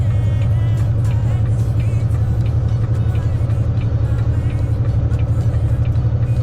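Heavy truck rolling through a mountain tunnel, a loud continuous low engine drone with steady road rumble and a faint flutter, enclosed and unbroken throughout.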